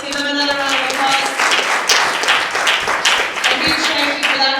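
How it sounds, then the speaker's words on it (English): Conference audience applauds the panelists, dense clapping from a crowd filling the room steadily for several seconds, fairly close and loud. "Let's give them another round of applause"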